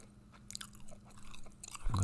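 Close, quiet gum chewing recorded for ASMR: soft wet smacks and small clicks repeat through the span, ending in a louder low thump.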